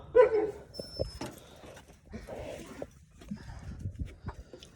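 A dog whimpers and yips softly a few times at close range amid quiet background rustling.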